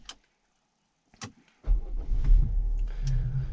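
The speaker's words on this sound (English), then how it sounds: "let's turn the car on" A 2020 Volvo XC60 T6 Inscription starts up: a couple of short clicks, then the engine catches with a sudden low rumble that settles into a steady idle, heard close from inside the cabin.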